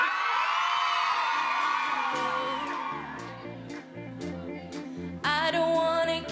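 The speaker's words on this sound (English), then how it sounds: "Can we just get a really, really loud scream from you guys?" A loud crowd at a live girl-group performance whoops and cheers over booming live music, the screaming swelling strongly near the end.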